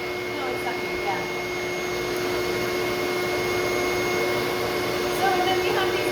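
A shop vac runs with strong suction, a steady loud whine with a constant tonal hum throughout, holding level without pause.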